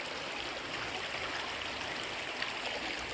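A stream flows steadily at a riverside bathing spot in Mahabang Parang, Angono, with a continuous, fairly soft broadband rush and gurgle of water and no talk.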